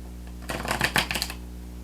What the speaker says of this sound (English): I'm having difficulty shuffling because of my nails.